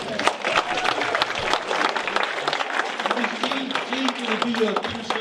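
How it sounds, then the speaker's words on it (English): An audience at a live session bursts into steady applause, dense clapping with crowd noise and a voice talking over it. "Come on up, give him a round of applause."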